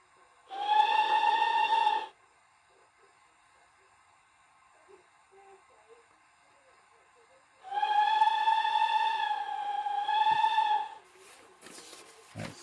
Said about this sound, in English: So we're just going to blow the whistle.